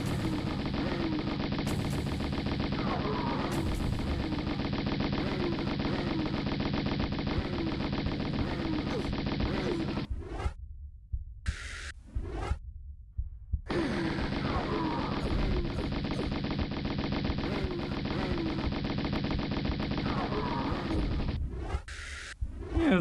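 Uzi machine gun fire in Tomb Raider, long continuous loud bursts of rapid shots lasting around ten seconds each, separated by a brief pause with a few scattered noises.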